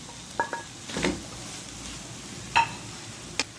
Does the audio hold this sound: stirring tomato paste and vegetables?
yes